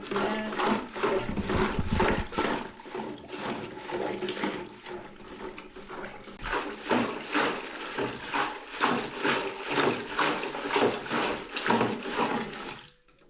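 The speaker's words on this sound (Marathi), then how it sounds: "असा ताक घुसळतं." Rhythmic creaking and sloshing repeats in quick back-and-forth strokes as a rope-pulled wooden churn churns buttermilk in a pot, close by.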